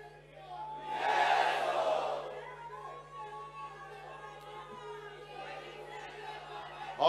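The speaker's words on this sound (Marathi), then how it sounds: "शिवसैनिकांची गर्दी आहे।" A packed hall full of Shiv Sainiks chatters, a dense murmur of many voices that swells loudly early on and then settles into a softer crowd hubbub over a steady low electrical hum.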